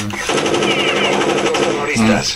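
AK rifles fire in rapid automatic bursts in the video game Counter-Strike: Condition Zero, a loud rattling stream of shots with a voice speaking over part of it.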